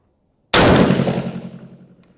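A single sharp, loud 6.5 Grendel rifle gunshot cracks out after a moment of silence, then rings down in a fading echo outdoors.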